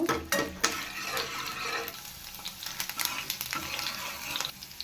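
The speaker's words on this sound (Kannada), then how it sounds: "ಒಂದು ಪ್ಯಾನ್ಗೆ ಎಣ್ಣೆ ಸೇರಿಸ್ಕೊತಾ ಇದ್ದೀನಿ ಒಂದು ಬೆಳ್ಳುಳ್ಳಿನ ಸೇರಿಸ್ಕೊತಾ ಇದ್ದೀನಿ ಇದನ್ನು ಚೆನ್ನಾಗಿ ಫ್ರೈ ಮಾಡ್ಕೋಬೇಕು" Garlic frying in oil in a pan while being stirred, a steady sizzle broken by scraping stirs and light clinks of a utensil against the pan, close and fairly quiet with no talk.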